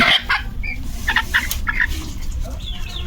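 A farm chicken clucks repeatedly in short, close bursts while being weighed, with steady background noise underneath.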